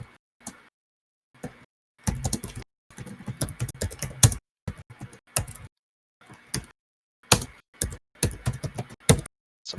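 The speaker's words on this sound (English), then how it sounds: "Some hearty typing." Rapid clacking keystrokes on a computer keyboard come in uneven bursts separated by short pauses, close and crisp, with no voices.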